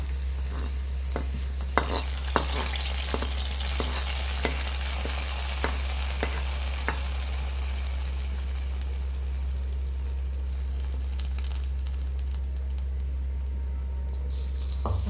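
Hot oil with fried onions sizzles loudly and continuously as it is poured into a fish curry, with a series of sharp metallic taps from a spoon against the pan and a low steady hum underneath.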